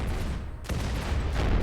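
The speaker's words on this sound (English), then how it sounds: "Turn the big cannon on so it can do some big boy damage." Heavy cannon fire during a RimWorld battle against a large group of orcs, a booming shot near the middle amid a dense, rumbling barrage of explosions, loud and continuous.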